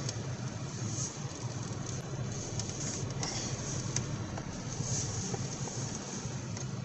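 Interior road noise from a 1979 Chevy van with a 5.7 engine driving, a steady low rumble and hiss with occasional small rattles and clicks, continuous and fairly subdued, no talking.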